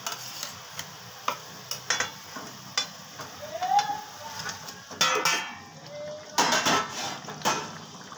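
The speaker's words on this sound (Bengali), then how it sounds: "এবার আমি দিয়ে দিচ্ছি মাছগুলো" Pieces of pabda fish going into a bubbling fish jhal in a pan, with sharp clinks and taps of utensil on metal, a soft simmering sizzle, and bursts of spluttering as the fish lands.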